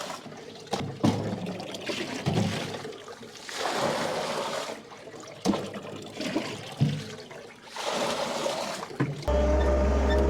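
Running water splashes and trickles against the walls of a farm barn during yard cleaning, coming in several bursts with brief pauses between, fairly close and steady, no voices.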